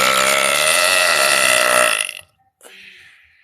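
A loud, sustained human belch rumbles close up for about two seconds, then cuts off sharply, followed by a brief softer breathy sound.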